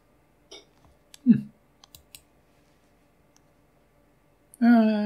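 Sparse computer mouse clicks sound close and quiet on a near-silent background while opening a recovered files folder, followed by a brief burst of talking.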